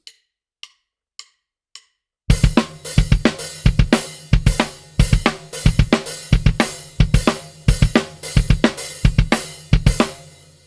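A drum kit opens with four sparse ticks from a count-in click, then launches into a dense groove of snare hits in sixteenth-note groupings over a steady hi-hat and kick, loud and close, without voices.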